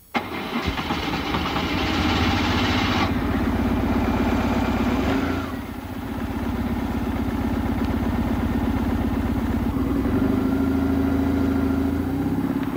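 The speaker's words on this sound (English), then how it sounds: "What kind of bikes are those? Honda 750 Shadows." Honda 750 Shadow motorcycle starting and running after a stubborn start, a loud, steady low engine rumble held close for the whole stretch, dipping briefly midway before settling back to a strong, even throb.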